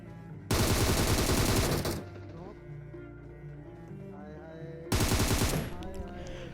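Two bursts of rapid automatic gunfire in BGMI, each a loud sustained spray lasting about a second, separated by a quieter gap with faint game sounds and a voice talking.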